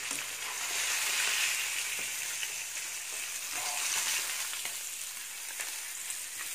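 River fish (jilebi kendai) frying in oil in a pan over a medium flame, a steady soft crackling sizzle with scattered pops that fades slightly over several seconds, with no voices.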